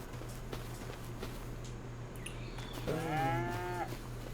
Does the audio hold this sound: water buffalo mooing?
yes